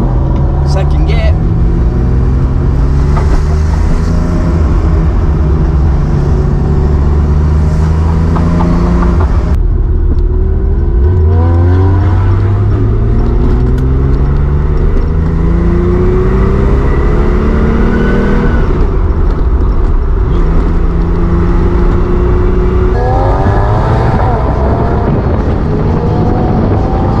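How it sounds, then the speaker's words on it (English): A Porsche RWB with a newly fitted engine and new KW suspension is driven hard on the road, its engine loud and close as it climbs and drops through the gears, rising in pitch with each pull, while people talk over it. "This is our first big drive in the RWB as well today. The engine needs it."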